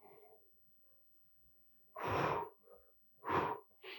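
Qigong breathing exercise: after a quiet gap, two strong, breathy exhalations follow one another, loud and close, with a faint voice murmuring at the very start.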